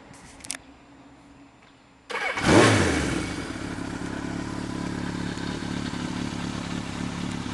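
Suzuki GS 1100 motorcycle with GSXR and Bandit upgrades is cranked after a short click, fires up with a loud burst and settles into a steady, close idle.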